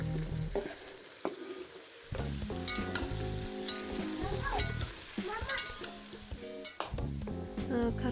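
Garlic and meat fry together in an oiled pan for nan salma (dapandji), with a steady hiss and crackle broken by repeated scraping stirs and light clinks of a utensil against the pan.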